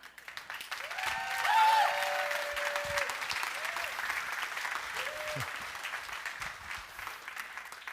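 Audience applause after a keynote talk: a brief round of clapping swells and fades, fairly faint and distant, with a few tonal chimes and speaking voices mixed in.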